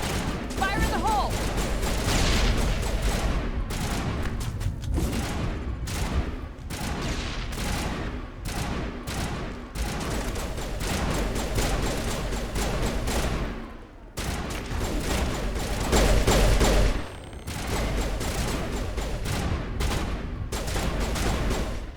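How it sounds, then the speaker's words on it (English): Dense, continuous gunfire from Mass Effect Legendary Edition pounds against a wall in long rapid volleys with brief pauses, loud and close, with voices talking intermittently over the shooting. "They just shoot at the wall."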